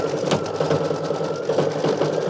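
An embroidery machine stitches dense, multi-layered flower centers on a Kimberbell mug rug, giving a close, continuous rhythmic chatter with a steady needle pulse and no talking.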